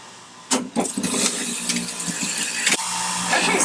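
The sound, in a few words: juicer motor juicing spinach, celery, lemon and ginger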